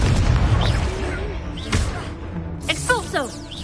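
Booming spell explosions in the Hogwarts Legacy video game, heavy low rumbling blasts with sharp bursts layered over combat noise, while voices shout during the fight.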